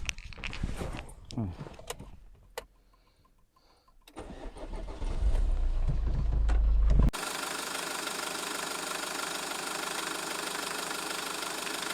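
A 2002 Volvo V40's engine starts and settles into a steady idle with a fast, even ticking running through it, after a stretch of nearby talk and handling noises.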